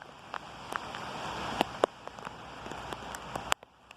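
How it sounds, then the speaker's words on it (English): Heavy rain falls in West Byfleet, Surrey, a steady wet patter with scattered sharp drips and taps striking a nearby surface. "Enjoy this video of a live heavy rain in Surrey, in West Byfleet."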